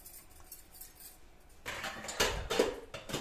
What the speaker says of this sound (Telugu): ఆవాలు వేసుకుందాం.